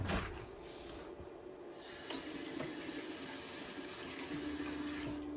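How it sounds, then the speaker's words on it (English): A paint brush is washed out in water, giving a steady, close wash of running and splashing water that grows a little fuller after the first couple of seconds. No voices. "Okay, wash the brush out. Clean it out, put it back."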